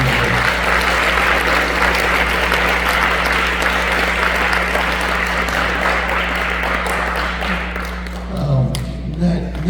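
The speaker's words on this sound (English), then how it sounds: "if we could give Coach Heather a good round of applause" Loud, sustained applause from a banquet crowd at a youth sports awards night honoring a coach, thick continuous clapping over a steady low hum, tapering slightly near the end as a voice returns.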